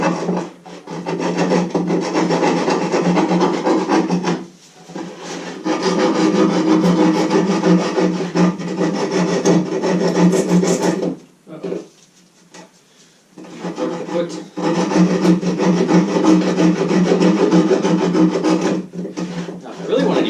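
Steady rasping strokes of a hand file on wood, close and continuous, with a few short pauses between bursts of filing.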